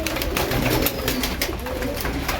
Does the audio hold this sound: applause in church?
no